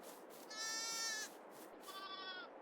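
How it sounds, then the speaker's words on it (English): Two sheep bleats, the first long and wavering, the second shorter, moderately close over a soft background hiss. "bought some sheep. How are they doing?"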